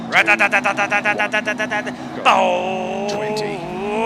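A person voices imitation car engine noises while playing the DiRT Rally 2.0 rally video game: a rapid, rhythmic revving burst of about a dozen pulses, then a sustained, rising engine-like hum that is loud and close.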